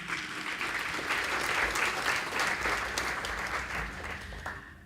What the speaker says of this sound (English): Clap them again.